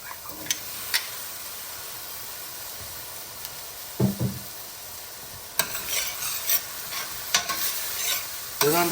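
Potatoes go into a hot pan for a lobster pan roast, giving a steady low sizzle with scattered scraping stirs and clinks of a utensil against the pan, close and fairly quiet.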